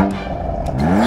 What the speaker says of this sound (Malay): Bunyi macam kereta saya.